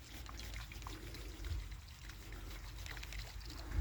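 Water mixed with citric acid pours out of a limescale-crusted kettle spout, trickling steadily in a continuous splashing stream, close by, with no talking.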